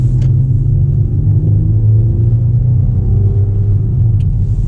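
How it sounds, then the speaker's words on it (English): A 2019 Ram 1500 Warlock pickup with its V6 engine pulls away under acceleration, a loud, steady low engine rumble with rising drone heard from inside the cab and no talking. "So let's accelerate here with this V6."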